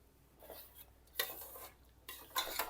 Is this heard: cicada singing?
no